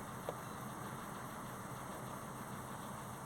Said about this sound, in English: Seems to be idling a bit better as well.